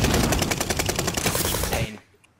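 Rapid machine gun fire from a video game shooter, a steady loud burst of closely spaced shots that cuts off abruptly near the end, leaving near silence.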